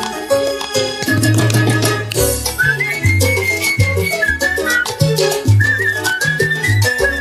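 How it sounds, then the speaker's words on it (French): A person whistles a song melody over a backing band with bass and rhythm instruments, the whistled line wavering high above the music. "Parce que j'adore siffler aussi cette partie-là"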